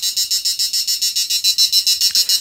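An electric fishing machine in pulse mode 4047 emits a rapid, even series of about fourteen shrill electronic beeps, loud and close, steady rhythm with no talk.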